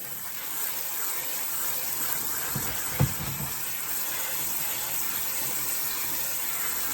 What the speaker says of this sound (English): my pasta noodles are all tender and I'm going to drain this